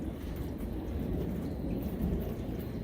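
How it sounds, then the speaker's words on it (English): Thunder rolls during a thunderstorm in northeastern Oklahoma, a faint, distant, low rumble that swells and fades under a soft, steady patter of rain. "Let's see what this next thunderclap does."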